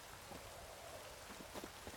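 Steady rain falling in The Witcher 3, a dense even hiss of drops with faint patters on surfaces throughout, continuous and without voices.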